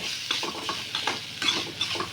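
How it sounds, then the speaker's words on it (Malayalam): Whole spices and black pepper dry-roasting and frying in a pan while being stirred, with a steady soft sizzle broken by repeated scraping strokes of a spoon, close and alone without talk. "നമുക്കിതെല്ലാം ഒന്ന് വറുത്തെടുക്കേ"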